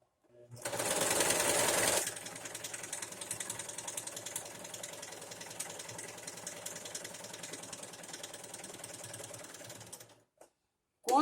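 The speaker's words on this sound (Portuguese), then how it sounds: "Quando a gente costura, evitem puxar o tecido" A sewing machine stitches fabric in a fast, steady mechanical whir with rapid needle ticking, loudest in the first two seconds and then running evenly until it stops abruptly near the end.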